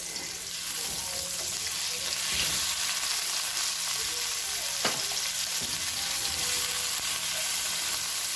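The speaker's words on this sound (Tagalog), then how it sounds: "Sabay na natin si bawang. At ilagay na natin ang ating kamatis." Garlic and tomato frying together in a pan, a continuous loud hiss and sizzle with occasional soft knocks and scrapes of a stirring utensil, close up and without talk.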